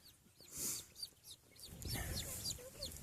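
Pastured Meyer meat chickens clucking and chirping in short bursts outdoors, with several birds calling near and far over a low, busy background rumble.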